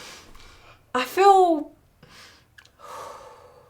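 A person releases a held breath with a distinct audible exhale after pinching the nose, close and clear, with softer breathy sounds around it.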